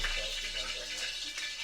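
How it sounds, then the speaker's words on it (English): Water splattering and sizzling in hot oil in a frying pan, a steady broad hiss with small crackling bursts lasting throughout, close and moderately loud. "just get a little water. You hear a nice splattering"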